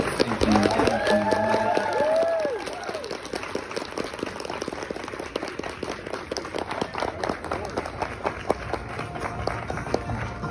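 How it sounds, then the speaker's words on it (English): An audience at a graduation ceremony applauds loudly and continuously, a dense crowd of clapping hands with some cheering, while a voice briefly talks over the start. "please give a huge round of applause to the case"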